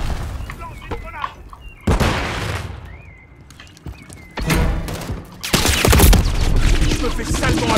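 Call of Duty Modern Warfare 3 combat: a heavy grenade blast booms out, then sustained bursts of loud gunfire and further detonations roll in close, over radio chatter and game voices.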